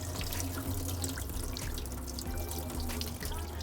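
Callaloo greens washed under running tap water, a steady close rush of water splashing into a sink without pause.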